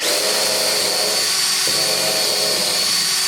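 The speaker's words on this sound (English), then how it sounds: "Now I'm pretty good at drilling holes" A power drill bores holes for a Biesemeyer table saw fence, a loud steady high whine that briefly dips in pitch partway through before running on, with no talking.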